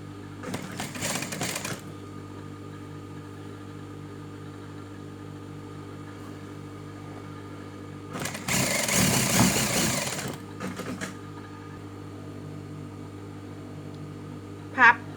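A sewing machine stitching fabric in two separate runs, a short whirring burst early and a longer one later, with quiet pauses between them.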